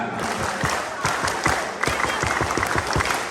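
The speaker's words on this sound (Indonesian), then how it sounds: "Sekali lagi, tepuk pramuka." Thousands at a political campaign rally clap out the scout clap pattern together, loud synchronized bursts in a repeating rhythm with crowd murmur and a few voices underneath.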